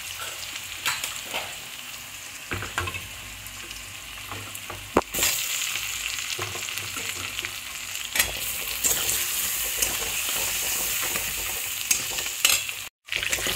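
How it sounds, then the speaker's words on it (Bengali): Onion and cut potatoes fry in a pan for a fish curry, a steady close sizzle with occasional stirring scrapes and clinks, with no talking. "পেঁয়াজটাকে একটু ভাজা ভাজা করে নেওয়ার পরে এখানে কেটে রাখা আলুগুলো দিয়ে দেবো"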